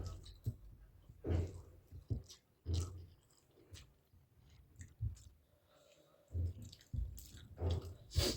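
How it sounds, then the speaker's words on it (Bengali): Close, wet chewing and squishy mouth sounds from someone eating rajma masala with rice in a Bengali veg thali, coming in short bursts separated by quieter pauses. "অনেকদিন পর রাজমা খেলাম, ভালো লাগছে।"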